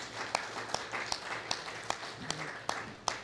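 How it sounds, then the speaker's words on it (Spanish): Rhythmic, evenly spaced claps from a church audience welcome a preacher, soft and somewhat distant over a low background murmur. "le invito para que le demos un aplauso"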